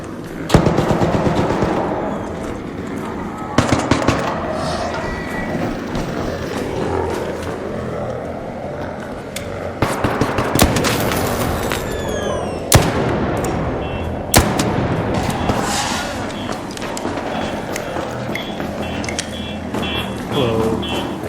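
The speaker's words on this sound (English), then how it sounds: "I notice a player that just randomly starts shooting at people" Gunfire in the Arc Raiders video game as a player opens fire on others: sharp shots and rapid bursts crack repeatedly over a constant rumbling game backdrop, loud and fairly close throughout.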